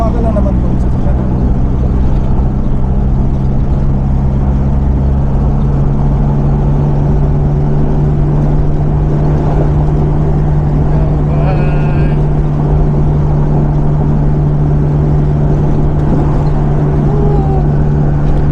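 A road vehicle driving slowly, with a constant loud engine drone and a steady low hum running the whole time, while people talk over it.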